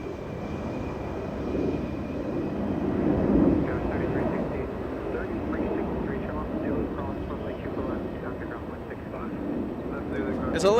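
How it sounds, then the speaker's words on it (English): An Airbus A380 with its landing gear down approaches Los Angeles International Airport, a distant, broad jet rumble that swells slightly and then holds, with voices nearby at times. "A380 still a little far away, geared already down."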